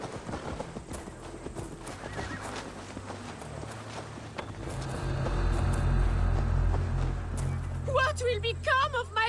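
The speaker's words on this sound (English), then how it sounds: "Good horse." A horse in the video game Assassin's Creed Valhalla, with rhythmic clip-clop hoofbeats and a whinny, building into heavier galloping that swells louder midway, with game voices and shouts heard over it.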